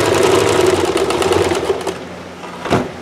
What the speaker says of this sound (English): sew the white to the other side of the red